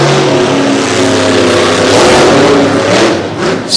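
A monster truck Jeep engine revs hard during a semi-final race at a Maryland monster truck event, a loud continuous roar with rising and falling pitch that fills the whole stretch.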